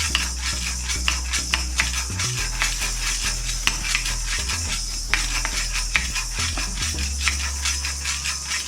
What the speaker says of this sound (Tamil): இந்த மிளகை இப்போ வறுத்துக்கலாம். மிளகு வறுபடுறதுக்கு கொஞ்சம் நேரம் தான் ஆகும்.